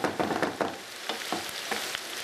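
Vegetables and tofu stir-fry in a pan, giving a close sizzle broken by irregular scraping and stirring clatters, with no talk.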